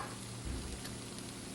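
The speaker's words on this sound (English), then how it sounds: "Just gonna saute that a little bit" Tofu and vegetables sautéing in an oiled pan for a stir fry with red quinoa, a steady close sizzle with a brief stir or clatter partway through, no talking.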